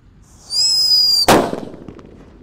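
A Happy Power 3 firecracker wrapped in paper hisses with a shrill whistling fuse for under a second, then bursts in one sharp, loud crack that fades quickly into faint crackle.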